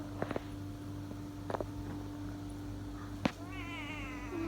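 A kitten gives a drawn-out, wavering meow near the end, after a few soft taps in an otherwise quiet room.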